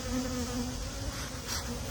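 Honey bees buzz steadily around their hives, a dense, continuous drone that holds close and even for the whole stretch with no voices.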